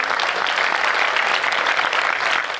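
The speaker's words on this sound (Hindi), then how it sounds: "मैं चाहता हूँ आपकी समवेत स्वरों से तालियां" Dense, steady applause from a large audience at a Hindi comedy poetry gathering (kavi sammelan), many hands clapping together loudly and continuously with no talk over it, fading slightly at the end.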